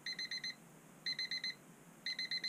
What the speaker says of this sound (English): Well, the alarm's going off again.